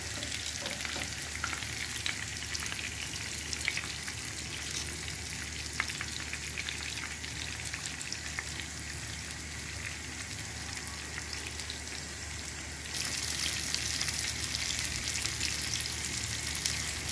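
Vegetable spring rolls with shrimp fry in hot oil, a continuous close sizzle that grows into a louder, brighter hiss for the last few seconds.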